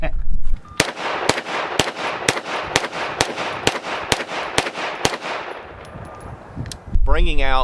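Rapid series of about a dozen sharp gunshots from a Stribog SP9A3s 9mm pistol, evenly spaced and loud with ringing tails, followed by a brief clatter at the end.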